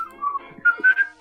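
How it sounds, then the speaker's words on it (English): A person whistles a short, loud melodic phrase of a few rising and falling notes, close to the mic, during a casual group chat. "Your whistling is very loud."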